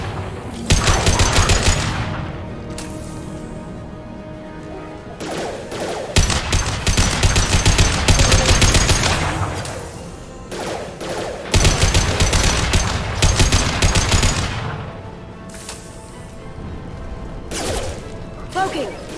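Gunfire in the video game Mass Effect 2: loud bursts of rapid automatic fire and heavy shots that come in several long volleys with short pauses between them, and speech is mixed in among the shooting.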